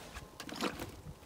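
Wet, squelching footsteps in mud, a few soft sucking squishes close by with no talking.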